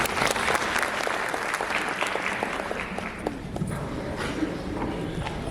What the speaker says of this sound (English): thank you so much for that applause